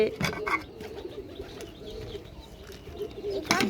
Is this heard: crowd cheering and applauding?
no